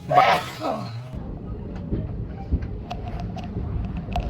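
Kanchankanya Express, Alipurduar to Sealdah, rolls along at night with a steady low rumble and faint rail clatter inside the coach. A voice is heard briefly at the start.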